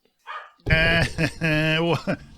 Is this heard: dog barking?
yes